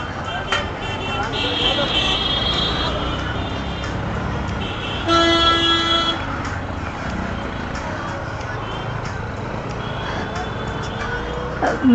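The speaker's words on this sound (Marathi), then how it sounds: "ट्रॅफिक" Busy road traffic carries on in a constant wash of engine noise, with a car horn tooting clearly at mid-distance, a couple of shorter honks around it, and people talking intermittently over the street din.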